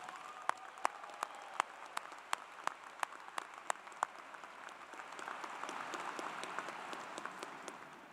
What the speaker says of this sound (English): I think you all deserve a loud round of applause.